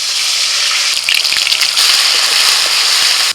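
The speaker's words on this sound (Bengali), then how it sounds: "ওই তেলের মধ্যে দিয়ে দিচ্ছি আদা রসুন আর কাঁচা লঙ্কা বাটা" Ginger, garlic and green chili paste sizzling in hot oil left from frying onions, a bright close hiss and crackle that intensifies midway and stays loud, no voices.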